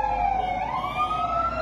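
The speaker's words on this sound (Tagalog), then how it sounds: "Ito na po yung ano natin, fire truck ng Quezon City Filipino Chinese Community." A Quezon City Filipino Chinese Community fire truck's siren wails loud and close at a fire, its tone sweeping smoothly upward over a low engine rumble, with no voices.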